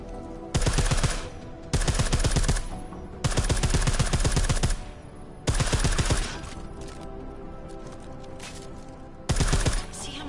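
Suppressed automatic gunfire in the shooter Deus Ex: Mankind Divided, fired in five rapid bursts of about a second each, separated by short pauses, close and punchy over a quiet game background.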